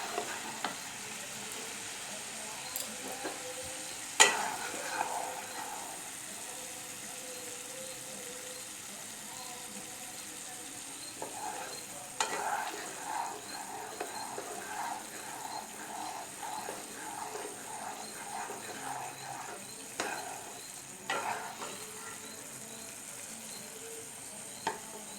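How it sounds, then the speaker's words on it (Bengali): A sweet mixture for Janmashtami simmering slowly over a low gas flame, with faint bubbling and intermittent stirring clinks and scrapes spread across a long, quiet stretch. "এই যে এটা আস্তে আস্তে ফুটছে, একটু একটু চিটচিট ভাব চলে আসবে"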